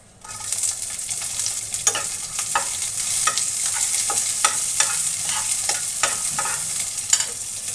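Chopped onion sizzles in hot oil with panch phoron, a steady bright frying hiss with repeated sharp scraping stir strokes throughout, close and fairly loud.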